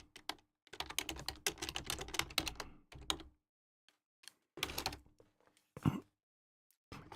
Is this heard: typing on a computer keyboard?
yes